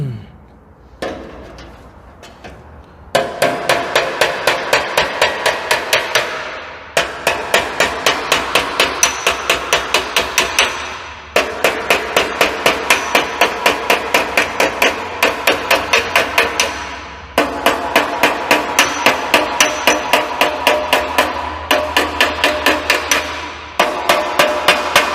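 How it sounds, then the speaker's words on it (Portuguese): Rapid, loud metal hammering with a round-faced hammer while shrinking V-shaped folds in sheet metal, in steady bursts of many blows separated by short pauses. "eu vou usar o martelo com a face arredondada"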